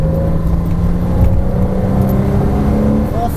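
A Porsche Cayman S accelerates on the Folembray race circuit, engine droning steadily and strongly from inside the car with the pitch climbing slightly, while an instructor talks throughout.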